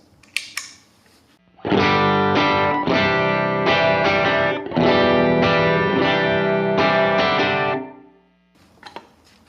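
A distorted electric guitar through a Deep 6 pedal and Strymon Iridium amp modeler chugs and rings out with thick overdriven crunch for several seconds, loud and sustained, then stops abruptly.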